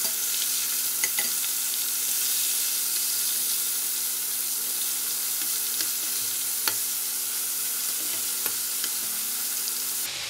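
Prawns fry in hot oil for Kam Heong golden fragrance prawns, giving a steady, dense sizzle with faint crackles and occasional sharper pops throughout.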